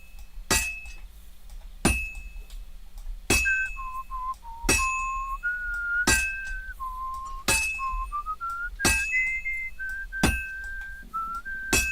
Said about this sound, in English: He's whistling a lot.